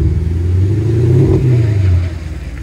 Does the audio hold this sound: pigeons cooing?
no